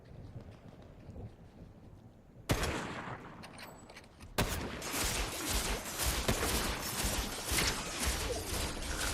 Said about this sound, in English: Alright, shooting behind.